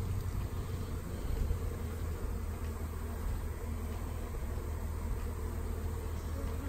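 Bees buzz around hive boxes at a lake during swarm-like activity, a steady, fairly faint drone that carries on unbroken without any talk.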